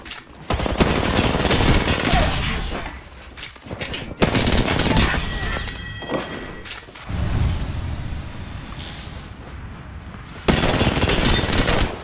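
Enemy gunfire in the shooter game Apex Legends, loud bursts of rapid automatic fire in several long stretches with short gaps, mixed with mechanical game effects.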